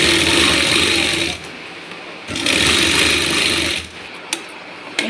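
A sewing machine stitching a Rajputi suit: a loud, steady mechanical whirring run, a brief pause, then a second run of the same rhythmic rattle, ending with a few small clicks, close up.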